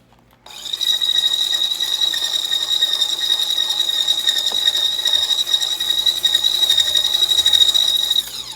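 An electric mixer on its lowest setting whisking pastry cream ingredients, giving a steady high-pitched motor whine with a rattling buzz. It starts abruptly and runs continuously at a fairly loud, even level.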